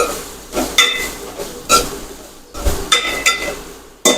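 Okra (bhindi) sautéing in oil in a pan: soft crackling sizzle with a few sharp stir and clatter hits spread across the clip, close and moderately loud, no voices.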